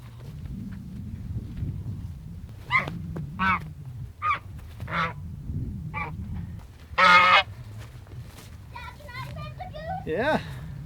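Several geese honk loudly and repeatedly up close on a homestead, mixed with children's voices and chatter in the background.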